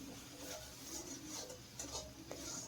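Spice paste with tomato stir-fried in a pan, a low scraping and soft sizzle with a few clinks of spoon against metal, steady and close but fairly quiet, no voices.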